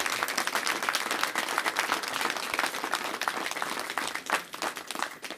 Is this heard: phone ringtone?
no